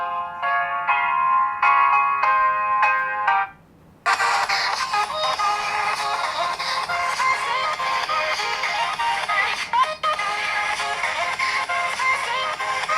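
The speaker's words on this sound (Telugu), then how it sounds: "ఒక సాంగ్ ప్లే చేద్దాం." An Infinix S4 smartphone plays a song through its built-in speaker: a few seconds of bright, tinkling tones, a short pause, then fuller, steady, fairly loud music running to the end with no talking.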